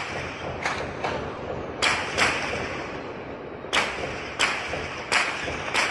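Bursts of machine-gun fire and pistol shots ring out across city neighbourhoods of Vitória in the early morning, a series of sharp, distant cracks in irregular clusters over a steady background hiss.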